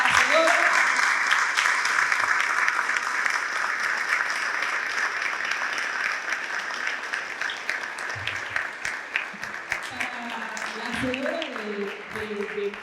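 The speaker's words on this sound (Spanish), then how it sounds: "quisiera un enorme aplauso para la señora" Audience applause at a law conference marking ten years of Argentina's Civil and Commercial Code, sustained broadband clapping filling the room for most of the stretch, with faint voices emerging toward the end.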